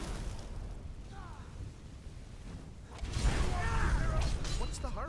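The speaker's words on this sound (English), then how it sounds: "As burning his giant fire explosion magic." Fire explosion magic spell cast in Skyrim, a loud burst after about three seconds that swells into a sustained crackling roar, following quieter game ambience and murmuring sounds.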